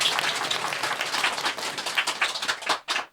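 A live audience claps together at a talk on Buddhist stories, a steady dense patter of many hands that fades out near the end, with no speech.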